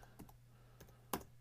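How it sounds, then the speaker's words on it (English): A few quiet, sparse keystrokes on a computer keyboard as numbers are entered, three separate clicks with the last one sharpest, in a still room. "all we're doing here is typing 4709"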